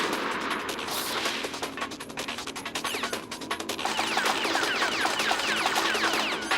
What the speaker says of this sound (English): I'm gonna try and get some more shots in like that.